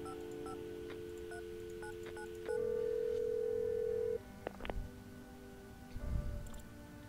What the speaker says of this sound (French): Donc je clique sur le téléphone.